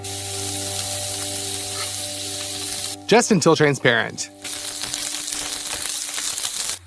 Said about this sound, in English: fry the onion